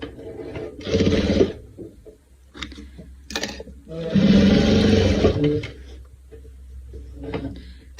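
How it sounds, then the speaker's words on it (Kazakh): A sewing machine stitching a round patchwork quilt runs in short, loud bursts of rapid mechanical whirring, with quieter pauses between runs and a brief rattle of the mechanism. "құрақтың үстінен бастап тіге беретін боламыз"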